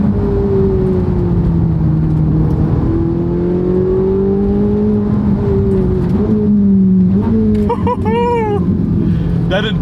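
A Ferrari 458 Italia's naturally aspirated V8 revs loud and close. Its pitch swells and falls in long sweeps, then it climbs sharply in a quick burst of revving near the end.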